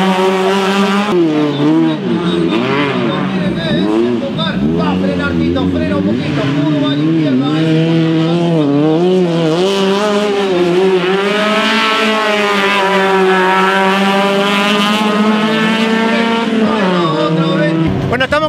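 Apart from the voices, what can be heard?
rally race car engines at Rally Entrerriano super prime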